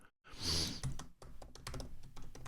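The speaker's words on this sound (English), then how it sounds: "So let's get typing." Fast typing on a computer keyboard, a steady patter of close key clicks with a burst of rustle at the start, no talk.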